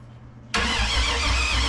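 A V8 engine swapped into an S10 pickup truck cranks and catches abruptly, then settles into a loud, steady close-up idle with a rough low rumble.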